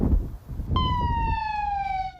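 Ambulance siren outside Care EMS in McAllen, a loud electronic wail that starts abruptly partway in and holds a steady, slowly falling tone over low rumbling traffic noise.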